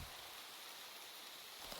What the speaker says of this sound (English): it started raining on the way back